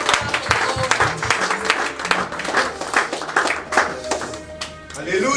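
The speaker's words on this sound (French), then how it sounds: "Applaudissons tous le Seigneur." A church congregation claps to praise the Lord, dense rhythmic handclaps running throughout with voices and talk mixed in, fairly loud and close.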